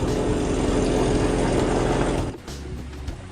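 A sailboat's inboard engine drones steadily and loudly while motoring, a continuous mid-pitched hum that drops off abruptly near the end, leaving quieter engine rumble.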